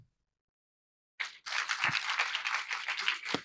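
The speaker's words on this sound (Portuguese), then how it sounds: "Palmas para a Lunara e para a Marisa." Applause from an audience at a panel on women in information and communication technology, breaking out suddenly after a second of silence and continuing as a dense, steady wash of clapping until the end.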